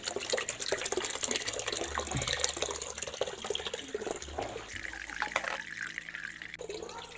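Water runs steadily from a loosened radiator valve during home radiator removal, a continuous close splashing and gushing that changes slightly in the middle, with a faint low knock underneath.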